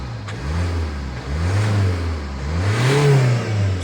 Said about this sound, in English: the engine sounds really, really healthy